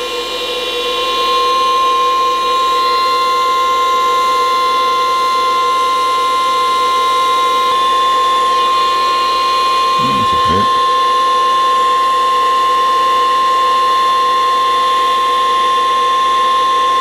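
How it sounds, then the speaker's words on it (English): A heat gun set to 200 Celsius blows a steady hiss of hot air over a Drake TR7 radio board, the airflow holding a constant whine with a short low thump partway through. "The heat gun is set to 200 Celsius,"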